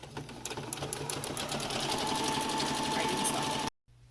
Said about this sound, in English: Hold it in place and sew straight down and do the same thing on this corner.